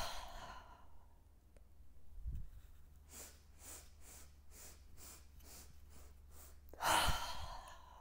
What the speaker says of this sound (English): beginning with that exhale and folding forward, then raising your body up and doing the breaths in.